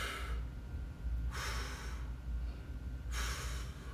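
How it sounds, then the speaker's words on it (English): Deep breaths are taken during a stick mobility exercise: two long airy inhales or exhales a couple of seconds apart, close and clear over a low background hum. "Deep breath in."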